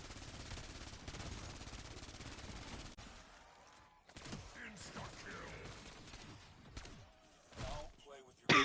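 An EGRT assault rifle in Black Ops 7 Zombies fires in sustained rapid bursts, loud and dense for the first few seconds, then gives way to quieter scattered game sounds with a sharp hit at the very end.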